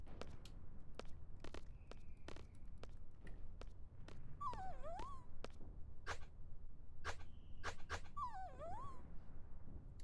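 A puppy in Final Fantasy VIII whimpers in rising and falling whines over a run of rhythmic footsteps and clicks, fairly quiet, with no talk.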